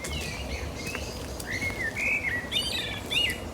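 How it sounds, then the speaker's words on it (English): A blackbird sings from the top of a tree in a cemetery, giving fluty, warbling phrases that grow fuller toward the end, fairly close over a steady outdoor hiss. "A blackbird just went over, and there's one singing up at the top of this tree here."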